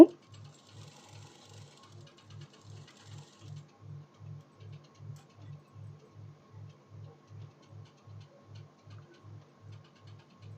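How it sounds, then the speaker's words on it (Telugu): A sewing machine stitches a blouse with a steady, fast, even ticking rhythm, fairly quiet and close, with no talking. "నిదానంగా జరుపుకుంటూ ముడతలు లేకుండా కుట్టుకోండి"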